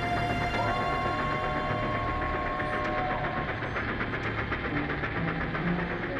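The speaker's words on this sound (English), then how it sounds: "The train steamed through the Cascade Tunnel" A steam passenger train rumbles steadily through a tunnel at a mountain pass, low drone and rhythmic clacking, with a long high whistle-like tone partway through.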